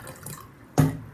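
Water poured from a tap into canning jars of chickpeas, a faint trickle followed by a short, sudden splashing gush near the end.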